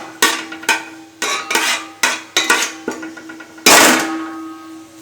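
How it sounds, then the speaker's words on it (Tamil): Cinnamon pieces and cardamom pods are stirred in hot oil in a pot, a run of sharp metallic clanks and scrapes from the spoon against the pot, close and loud, ending in a longer scrape with a burst of sizzle. "இப்போ அதை நம்ம எண்ணெயில் சேர்த்துக்கலாம். சேர்த்து லைட்டாக ஒரு கிளறி விட்டுடலாம்"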